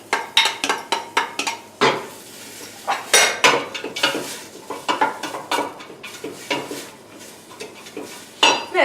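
Chopped yellow and red peppers tumble into a cooking pot for a chilli, followed by a series of sharp metallic clinks and scraping stirs against the pot, close and fairly loud with faint sizzling underneath and no voices.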